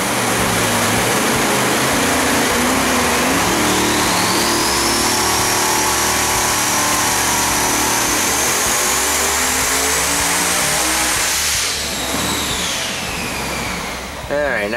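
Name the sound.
3,600+ hp twin-turbo big-block engine on dyno pull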